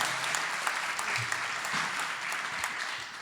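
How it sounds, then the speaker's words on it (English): A wedding audience applauds the people who gave speeches, with sustained, dense clapping from many hands that stays fairly even throughout. "can we get a round of applause for everyone that's, stood up here?"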